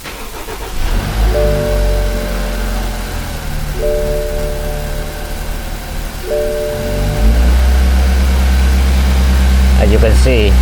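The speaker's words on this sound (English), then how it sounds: "I will start the engine." A car engine with a check engine light on, a rough idle and loss of power, starts up and runs, its uneven low rumble steady and close, with a chime sounding several times and voices heard over it.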